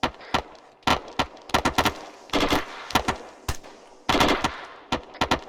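Rapid bursts of rifle fire during an army section training exercise, sharp cracks in quick irregular clusters, loud and close with brief pauses between volleys.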